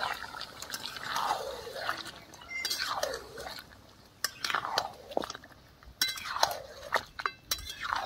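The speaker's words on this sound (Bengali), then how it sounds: "ঢাকনাটা খুলে একবার নেড়ে দেবো।" A spoon scrapes and stirs biryani in a cooking pot after the lid comes off, giving several rhythmic sweeping scrapes with metallic clinks and knocks at close range and no talking.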